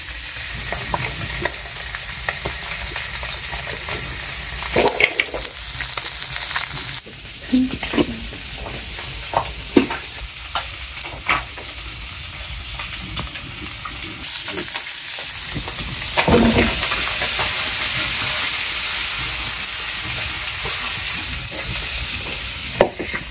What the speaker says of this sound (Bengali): মাছগুলো আগে ভাইজা নিয়ে তারপর রান্না করা হবে।